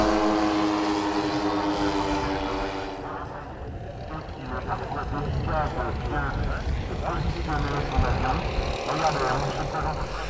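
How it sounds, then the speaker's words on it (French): A quarter-scale Shrike Aero Commander model plane, 4.2 m wingspan and 33 kg, with twin 62 cc engines, taking off at an airfield; a loud steady droning engine roar under continuous commentary. "Au décollage, le Shrike Aero Commander de Christian Bocage, un modèle à l'échelle 1"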